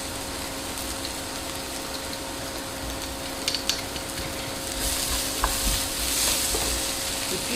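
Greek-style quiche filling sizzles steadily in a frying pan while a spoon stirs it, and pressed garlic is added. A few light scrapes come through, and the frying swells louder toward the end, close and with no talking.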